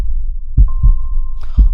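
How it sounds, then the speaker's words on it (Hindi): A fast heartbeat sound effect plays, three deep low thumps in quick succession over a thin steady hum, loud and close, with no talking. "मेरे दिल की धड़कनें भी तेज हो रही थी"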